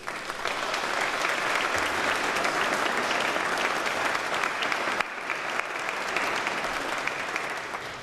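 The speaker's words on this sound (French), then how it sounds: "Vos applaudissements spontanés m'apportent une réponse" Congregation at a Sunday mass applauding spontaneously after a candidate is presented for the ministry of acolyte, a sustained, even roar of many hands heard at a moderate distance.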